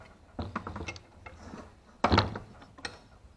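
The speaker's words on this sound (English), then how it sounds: "to get the bracket off, you'll notice there are 3 bolts here. Basically, just loosen these up." Bracket bolts loosened on a Mercruiser inboard engine, close metallic ratcheting clicks and scraping in short uneven bursts with a sharper clank near the middle.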